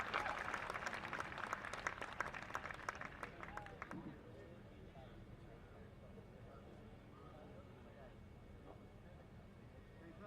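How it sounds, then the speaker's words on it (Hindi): Audience applause at a large outdoor Hindi poetry gathering in Lakhimpur, a dense wash of many hands clapping for about four seconds before fading into crowd murmur and open-air ambience. "बस तालियों की ध्वनि बताए कि विष्णु सक्सेना जी आ रहे हैं"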